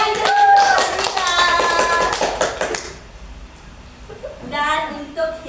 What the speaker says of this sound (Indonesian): Ya, tepuk tangan dulu, Rita.